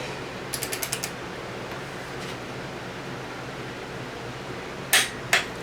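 A torque wrench clicks while tightening new cylinder head bolts during reassembly of a Cummins 4BT diesel engine: a quick run of about five light clicks, a pause, then two sharper, louder clicks, close by against a quiet workshop hiss.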